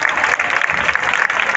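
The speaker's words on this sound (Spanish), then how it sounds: "Pero la gente empieza a aplaudir" A crowd applauding at the Hermandad de Huelva procession departure for El Rocío, a dense steady patter of many hands clapping outdoors, brief and fairly loud, with no talk over it.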